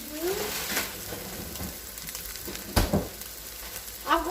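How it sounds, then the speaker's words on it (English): Bacon and scrambled eggs frying together in a pan, a close, steady sizzle with occasional scraping stirs and louder crackles, with a voice briefly heard at the start and end. "cook the bacon and then scramble the eggs and do the bacon with the eggs right in there"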